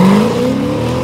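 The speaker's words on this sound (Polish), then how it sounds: "lecimy na zamkniętych klapach, a za chwilę na otwartych. I zobaczymy różnicę głośności wydechu." Car engine revving with its Armytrix exhaust valves closed, a steady, fairly loud drone that rises in pitch at the start and then holds for about a second, with no voices.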